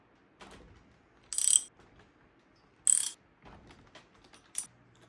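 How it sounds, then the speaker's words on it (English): Hand tools work the cylinder head bolts loose on a homemade gas engine, giving three short, crisp bursts of ratcheting clicks separated by quiet pauses, close to the microphone. "let's take the head bolts off and see what it looks like on the inside"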